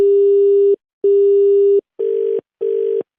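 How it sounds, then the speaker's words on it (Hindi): A telephone busy tone after a call is cut off sounds as four steady beeps with short gaps between them, clean and close, with nothing else underneath. "फोन काट।"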